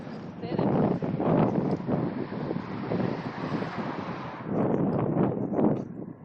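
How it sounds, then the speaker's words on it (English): Strong outdoor wind buffets the microphone in heavy, rumbling gusts that rise and fall, while voices talk underneath. "Yeah, that's pretty windy."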